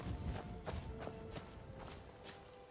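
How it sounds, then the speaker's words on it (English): A companion's footsteps follow close behind in the Skyrim video game, a quiet, regular series of soft thudding steps at an even walking pace. "So I hear her footsteps behind me"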